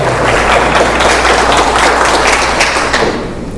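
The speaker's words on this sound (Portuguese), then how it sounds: "Uma salva de palmas para Jesus." A religious testimony gathering bursts into a round of applause for Jesus: dense, steady clapping from many people throughout, thinning slightly at the end.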